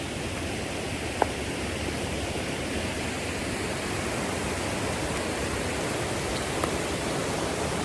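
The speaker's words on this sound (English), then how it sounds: "So there it is over my shoulder, little waterfall there." A small outdoor waterfall flows in a steady, even wash of rushing water, moderately distant and unbroken, with no voices over it.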